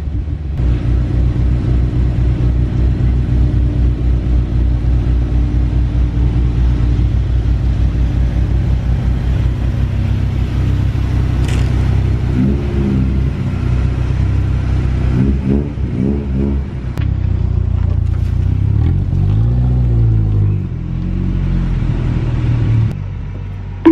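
Steady car engine driving on K Tuned K1 coilovers with 32-way dampening, a continuous loud low rumble with a few rev changes and surges along the way, heard up close with no talking.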